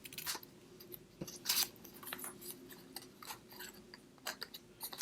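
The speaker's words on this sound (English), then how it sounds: "all I'm going to do is take my scissors and I'm going to cut a couple of these." Scissors snip through paper scraps for mini banners, a series of quick, crisp cuts at close range with short pauses between them.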